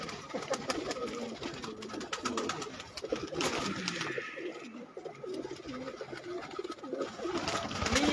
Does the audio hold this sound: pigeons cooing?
yes